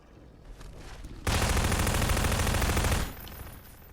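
SMG gunfire in a Fallout 4 Deathclaw mod inside GMOD bursts in as a sustained rapid automatic stream lasting nearly two seconds, loud and dense, before cutting off abruptly to quieter game ambience.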